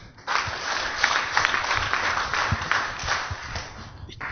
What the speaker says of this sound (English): Give me an applause